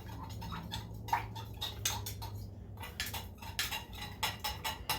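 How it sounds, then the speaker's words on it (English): A summer salad tossed with salt in a bowl, a rapid, uneven series of close clicks and taps from a utensil against the bowl that continues steadily throughout. "You want to continue mixing this until that salt pretty much dissolves."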